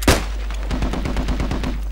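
Gunfire in the video game Post Scriptum: a sharp loud shot at the start, then a steady rapid string of close automatic reports pulsing evenly to the end.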